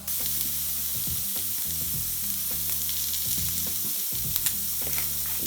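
Shrimp sizzle and fry in a pan with a steady, close crackling hiss, broken by a few sharp clatters and scrapes as they are turned and seasoned with salt.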